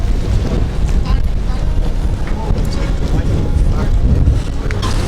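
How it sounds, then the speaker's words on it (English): Strong wind buffets the open deck of the cruise ship Quantum of the Seas in the Bay of Islands, a steady loud roar of gusts hitting the microphone with low rumbling, continuous throughout. "Pretty windy."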